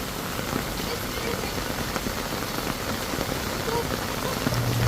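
Steady rain patters densely on a surface, a continuous hiss with scattered drops, no voices.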